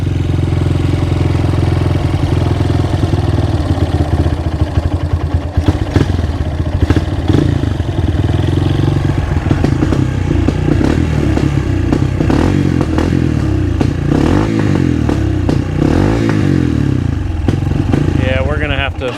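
A dirtbike engine idles loud and close inside a garage, a rough steady chug with clattery irregular firing throughout, while people talk over it.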